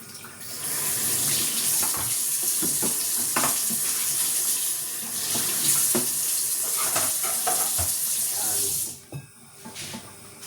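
A kitchen tap runs steadily under the hands as fish pieces are rinsed, the water splashing and gurgling loudly for about nine seconds before it is shut off, leaving a couple of brief clatters.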